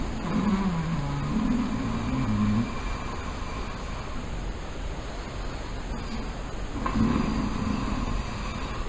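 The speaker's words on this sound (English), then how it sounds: "breathing out through the nose against a fairly closed glottis" Ujjayi breathing, exhaled through the nose against a partly closed glottis, gives a soft, raspy, snore-like rush: one long breath near the start and another near the end, close and steady, over a constant background hiss.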